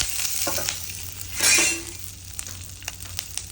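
Cloves, cinnamon and dried and green chilies sizzle in hot oil in a pan while being stirred for a mutton kheema curry, a steady close frying hiss with a louder burst midway and light scraping clinks, no talk.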